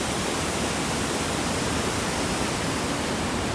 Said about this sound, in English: How's that for a waterfall?